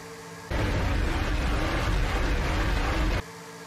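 A Dodge Charger R/T engine in Forza Horizon 5 roars in a single loud, dense rev that starts abruptly and cuts off after about three seconds.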